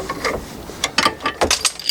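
A wrench on a T55 Torx bit breaks loose a bolt holding a van's air-suspension bump stop, giving a few sharp metallic clicks and ratcheting snaps spaced through a short, close-up stretch with no talking.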